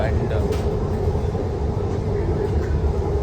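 A Namma Metro train ride in Bangalore, with a steady low rumble of the carriage in motion and a faint high whine running throughout, heard from inside the coach.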